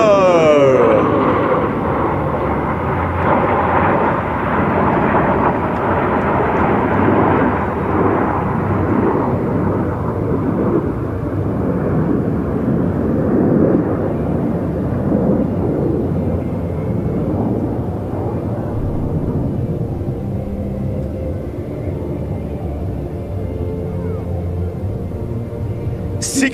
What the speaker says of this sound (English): 6 aircraft as followed by the same hand, 6 individuals flying as if with a single mind are rolling as they are tied to each other.